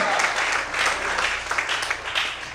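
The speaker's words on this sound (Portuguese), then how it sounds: "Você pode aplaudir o Senhor Jesus?" A church congregation bursts into sustained applause during a Portuguese-language sermon service. Many hands clap fairly loudly and evenly throughout, with no clear talking.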